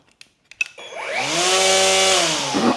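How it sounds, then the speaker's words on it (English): An EGO 56-volt, 15-inch battery-powered electric string trimmer spins up inside a garage after a few faint clicks, rising into a steady, loud, smooth whine that holds evenly and then dips slightly. "it's one of the quieter electric string trimmers that I've ever worked with"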